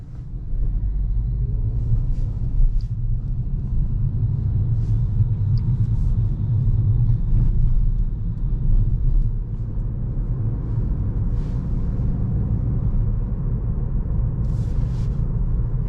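Inside a 2022 Peugeot 308 plug-in hybrid with 180 hp and an EAT8 automatic, a steady low rumble of road and engine noise fills the cabin, with faint ticks and knocks now and then.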